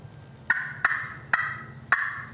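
A vintage friction turkey call played with a striker gives four raspy, high-pitched yelps spaced unevenly apart, each with a sharp scratchy onset, close and moderately loud.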